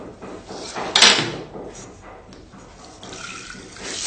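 Lentils soaked for a few hours are strained into another pot, with a sudden splash of pouring water followed by quieter trickling and light clatter of the vessel, close by.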